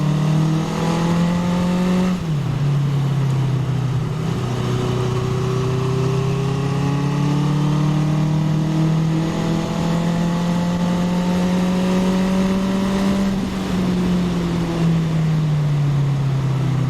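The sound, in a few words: 1981 Honda CB750K motorcycle engine while riding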